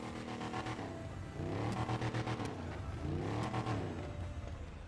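A lifted truck engine in a roleplay driving video game revs in repeated rising bursts, the pitch climbing and falling twice, moderately loud with a throaty, harmonic growl.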